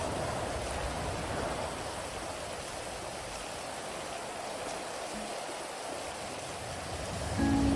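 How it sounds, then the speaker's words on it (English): Steady, hissing rainfall in a video game (GTA roleplay) fills the scene, a constant wash of falling drops without pause, moderately loud, with a faint tone appearing near the end. "Damn, it's raining too?"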